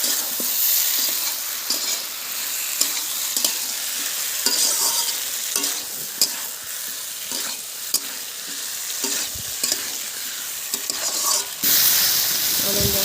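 Spice paste with torn green chillies and tomato frying and being stirred in a pan, a steady close sizzle with repeated scraping stir strokes throughout.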